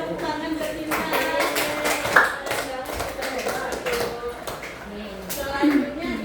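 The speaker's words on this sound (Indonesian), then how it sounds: "beri tepuk tangan buat Cinta" A class of ninth-grade students claps for a classmate in a classroom, producing a steady spatter of hand claps that runs for several seconds amid murmuring voices.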